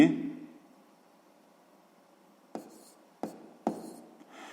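A pen writes out a handwritten maths solution with fractions: a fading hum gives way to a few short, scratchy strokes close by, spaced about half a second apart.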